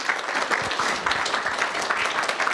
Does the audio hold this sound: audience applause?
yes